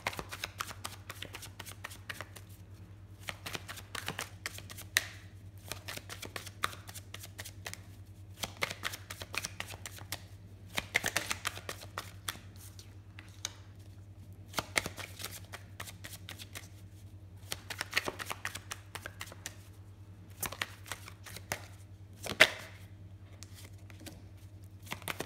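Oracle des miroirs oracle deck being shuffled by hand, a steady run of dry card riffles and slaps lasting throughout, fairly close and quiet over a low constant hum, with no talking.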